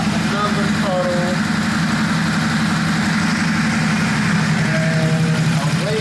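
A 2021 Ducati SuperSport 950S motorcycle that is leaking oil idles nearby, its engine a loud, steady, low rumble that continues without a break.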